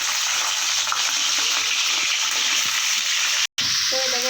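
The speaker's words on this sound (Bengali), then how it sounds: "তারপর ওই তেলের মধ্যেই দিয়ে দিচ্ছি ধুয়ে রাখা মাংস।" Washed chicken pieces frying in hot oil with whole garam masala spices and a dried red chilli, a steady loud broadband sizzle filling the whole stretch, with a brief dropout near the end.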